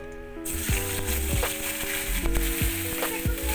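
Fresh ground raw tomato paste hits a pan of hot white oil mixed with ghee and sizzles loudly and continuously, with crackling spits and a few clinks of a utensil stirring through it.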